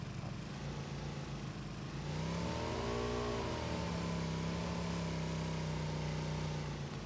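Motorcycle engine in the game PUBG, a steady mid-pitched drone that rises in revs about two seconds in, then holds a loud, even hum with a slight pitch swell and dip.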